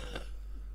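A single short cough near the start, quiet and brief, followed by low hum.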